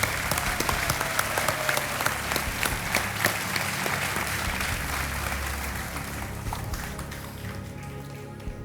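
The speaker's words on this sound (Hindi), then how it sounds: "तालियों के साथ इनका स्वागत किया जाए" A studio audience on the Indian quiz show Kaun Banega Crorepati applauds continuously, loud and dense at first, then the clapping thins and fades toward the end.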